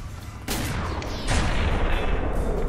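Gunfire in the video game F.E.A.R. 3: a loud, close burst of shots that jumps to a heavier, denser barrage partway through, sustained and booming with no talking.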